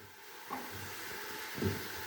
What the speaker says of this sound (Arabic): نقلب السلاقه